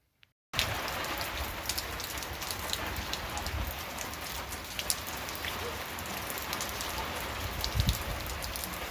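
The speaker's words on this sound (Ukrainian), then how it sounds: "Йде дощ." Steady spring rain falls in a village in central Ukraine, a dense close hiss of drops with scattered louder taps, continuous after a brief silent start.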